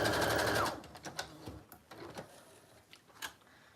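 Sewing machine stitching through journal pages, a loud steady whir for under a second that stops, followed by faint handling clicks and rustles.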